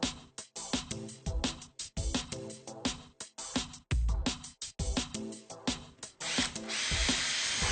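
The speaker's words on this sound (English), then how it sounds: "Use a long drill bit to mark the wall where the universal will be installed." A power drill bores into a wall while a garage door rail is being mounted, running in repeated loud bursts with short pauses, then one longer steady run near the end.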